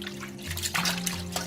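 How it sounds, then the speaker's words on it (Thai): Cooked noodles are soaked and rinsed in cold water, giving a short, close splashing and trickling of water with a low steady hum underneath. "เสร็จแล้วเราก็นำมาแช่ในน้ำเย็นเลยค่ะ"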